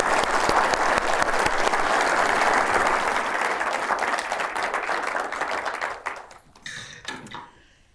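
A lecture-hall audience claps warmly to welcome a speaker, steady dense applause that thins out and fades into scattered claps by the end.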